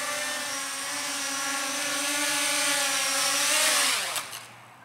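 An ARES CrossFire radio-controlled helicopter flies in to land, its steady high rotor and motor whine holding close and fairly loud before dropping in pitch and winding down at touchdown.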